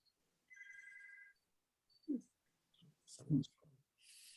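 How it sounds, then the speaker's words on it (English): A telephone rings in a room with a short electronic trilling burst, faint and a little distant, followed by light clicks and brief voices. "That's my phone, but my husband's out there."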